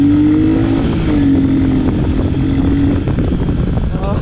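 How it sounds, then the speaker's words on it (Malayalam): A Royal Enfield Meteor 350 single-cylinder motorcycle engine thumps steadily while being ridden, the loud continuous beat close-up and mixed with wind rush across the microphone. "ഇതിൻ്റെ ത്രോട്ടിലിൻ്റെ ആ ഒരു ബീറ്റ് ഞാൻ കേൾപ്പിച്ചു തരാം റണ്ണിങ്ങിൽ"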